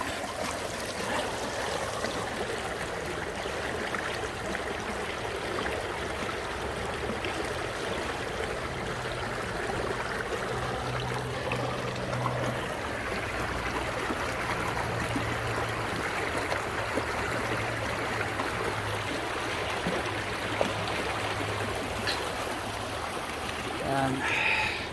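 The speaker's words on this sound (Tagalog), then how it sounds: "tutulog ka tapos yan ang maririnig mo, yung lagaslas ng tubig sa panga." Creek water flows steadily past a campsite in Colorado, a continuous broadband rush and trickle that stays even and fairly close throughout, with faint low murmurs of talk underneath.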